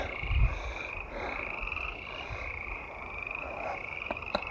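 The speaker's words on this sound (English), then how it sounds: "More frogs." A continuous frog chorus by a mountain lake in New Mexico: overlapping trilling calls hold steady throughout, with low croaks beneath and a brief louder thump near the start, fairly close and without voices.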